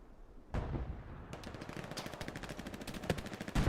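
Rapid machine-gun bursts and single gunshots rattle through a competitive online war shooter match, with a heavy thump opening the sequence and dense, continuous firing that swells louder toward the end.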